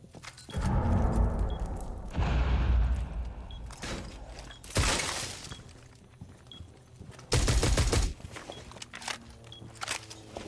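Bursts of rapid gunfire in a first-person shooter game, several loud volleys separated by quieter stretches with footsteps and scattered thuds, fairly close.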